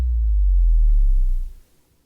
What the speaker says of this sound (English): A good sound effect to set up anticipation is a drop or an 808 drop or explosion